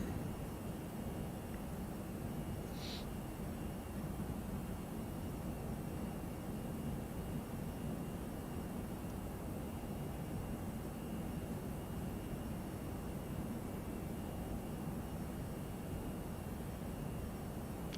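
A319 jet engines in X-Plane 11 after departure: a steady, unbroken broadband roar and hiss with no change over the whole stretch.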